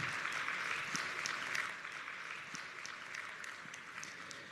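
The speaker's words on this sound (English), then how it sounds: "Ladies and gentlemen, a big round of applause." An audience applauds at a launch ceremony for a biodiversity policy statement and master plan, producing a sustained, fairly soft patter of many hands clapping that holds steady throughout without speech.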